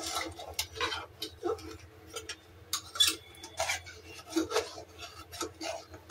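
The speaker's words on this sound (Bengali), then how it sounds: "এটাকে আবার একটু নাড়াবো।" A spoon stirring khichuri in a cooking pot, with soft, irregular scraping and clinking strokes close by over a low steady hum.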